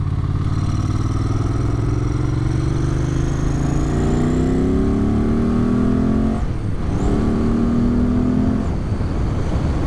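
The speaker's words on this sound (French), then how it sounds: "Oh ce bruit, ce bruit entre l'échappement et l'admission." A 1994 Ducati 900 Supersport motorcycle roars nearby, its exhaust and intake rising in pitch as it accelerates, then it briefly dips for a gear change and climbs again. Loud and continuous, with no talking.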